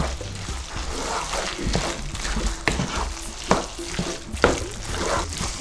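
Chicken pie filling with spring onion and cornflour is stirred in a hot pan for a Nigerian chicken pie. Steady sizzling runs under repeated scraping sweeps of the spoon, close and moderately loud, with no talking.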